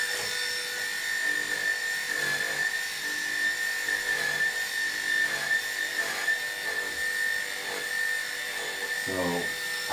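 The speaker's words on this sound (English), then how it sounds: "So I'm sorry for the noise of the clipper." An electric clipper grooms a Cocker Spaniel with a constant high, buzzing whine close by, while a voice talks faintly underneath.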